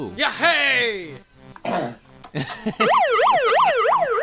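A wailing siren rises and falls in steady sweeps, loud and close, following a burst of shouting and quick speech.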